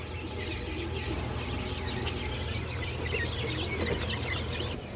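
Incubator-hatched chicks and other poultry at a farm selling pigeons and chickens give a steady mix of soft clucks and high peeps over constant background noise, with no talk.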